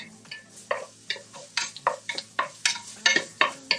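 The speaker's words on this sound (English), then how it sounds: "I'm going to give this a stir." A spoon stirs food in a cooking pot on a home stove, roughly ten close, crisp scraping strokes in a fairly steady rhythm over a faint simmer, with no speech.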